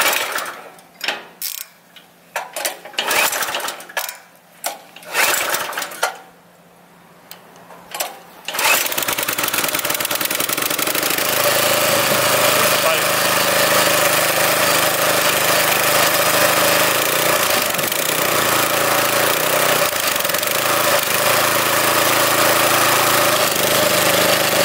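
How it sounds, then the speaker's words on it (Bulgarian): A petrol rotary tiller engine is cranked with a few uneven pulls and sputters, then catches and runs steadily at a loud, constant rattling idle, with no talk. "И сега, след като я сглобихме отново фрезата, пробваме да запалим."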